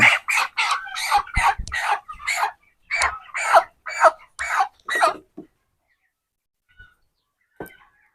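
Broiler chickens at about 26 days old cluck on a poultry farm while being weighed. A close run of short, rapid clucks lasts about five seconds, then near silence with a couple of faint calls near the end.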